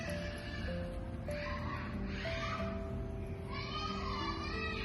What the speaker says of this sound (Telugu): పక్కన పిల్లలు గోల.